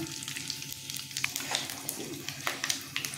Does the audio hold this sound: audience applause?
no